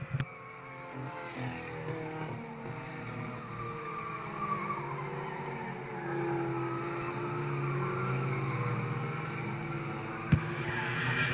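Race cars on a speedway track during a racing event sound as a distant, continuous engine drone with shifting whines as cars pass and accelerate, faint throughout.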